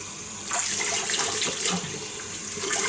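Tap water runs steadily into cupped hands at a sink while a cleansing balm is rinsed off, a close, continuous splashing stream with no break.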